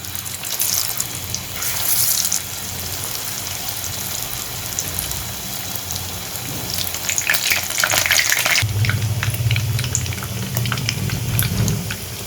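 Shami kababs, beef patties, sizzle steadily in hot oil on a stove, a continuous bright crackling frying hiss that grows louder and denser toward the end as more kababs go in.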